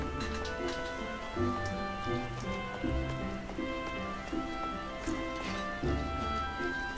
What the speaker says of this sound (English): Do have the sound of rain in games